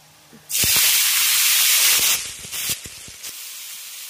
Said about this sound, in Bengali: এবার তেলের মধ্যে ফোড়নে দেব গোটা জিরে, শুকনো লঙ্কা আর তেজপাতা।